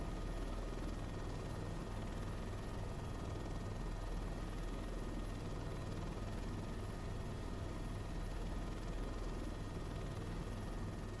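A helicopter engine in a flight video game, a loud constant rotor drone and whine that holds steady without pause, with no one speaking.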